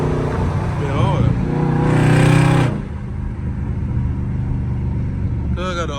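A loud Scat Pack car engine rumbles steadily during a late night drive, swelling briefly as it builds before settling, while voices talk inside the car.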